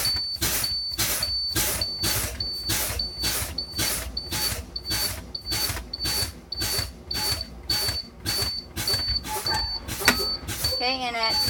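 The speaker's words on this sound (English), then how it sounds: "At 60 PSI, our low pressure light and buzzer" A truck's air brake low-pressure warning buzzer, triggered at 60 PSI, beeps in regular pulses about once a second, running continuously with mechanical noise and a voice in the background.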